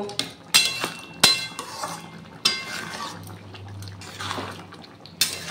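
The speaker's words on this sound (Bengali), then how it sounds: "ধনেপাতাটা দিয়ে একটু নেড়ে চেড়ে আমি নামিয়ে নেব।" A soybean curry with coriander leaves is stirred in a pot, with scattered spoon scrapes and metallic clinks over a low bubbling simmer, close but fairly quiet.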